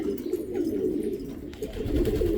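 Pigeons coo in a soft, continuous, low murmur close by, with no talking.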